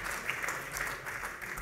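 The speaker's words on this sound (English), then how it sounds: "yep, round of applause" Brief, faint applause from an audience at a press awards ceremony, steady light clapping throughout.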